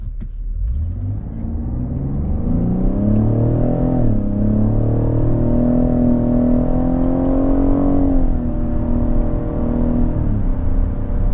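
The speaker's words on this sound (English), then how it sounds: "Now we're going to go down to manual, and we'll shift with the paddles and see how it feels." A 2024 Cadillac XT6 Sport SUV accelerates in manual mode with paddle shifting, its engine drone climbing steadily in pitch, dipping at a shift, then rising again, loud and continuous over road rumble from inside the cabin.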